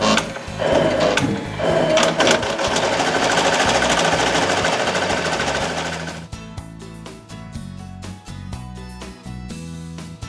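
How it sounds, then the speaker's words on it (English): A Bernina E 16 embroidery machine stitches a design onto a cap, a loud, steady rapid mechanical chatter that drops to a lighter, quicker ticking rhythm partway through, with no voices. "We're ready to begin stitching our design."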